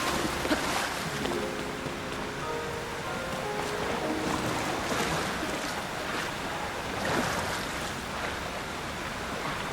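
Steady rushing roar of a waterfall in The Legend of Zelda: Tears of the Kingdom, a dense continuous wash of water noise with faint game tones mixed in and no talk.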